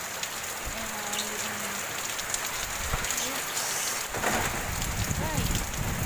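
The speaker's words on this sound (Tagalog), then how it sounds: "Bugso ang hangin at ulan dito." Steady heavy rain pours onto surfaces during Typhoon Ulysses with a constant broadband hiss and gusting wind, and a few faint background tones and noises come through it.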